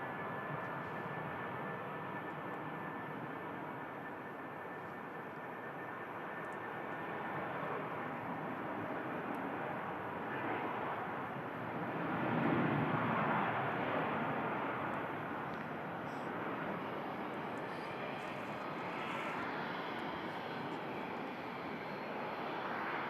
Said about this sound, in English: Rather early rotation from the Finnair.